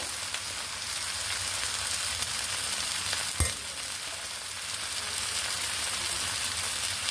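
Food frying in a pan with chaat masala being stirred in, a steady bright sizzle running throughout at close range, broken by one sharp knock of the spoon against the pan midway.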